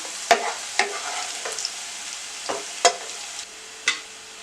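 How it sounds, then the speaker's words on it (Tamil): Onions fry in hot oil for chicken rice, a steady soft sizzle punctuated by five or six sharp scrapes of a spoon stirring the pan at uneven intervals. "இப்போ இந்த வெங்காயம் நல்லா வதங்கிடுச்சு"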